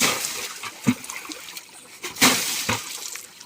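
Water from a tractor pump pipe gushes and splashes in uneven bursts, with a couple of louder surges rising above a steady spatter close by.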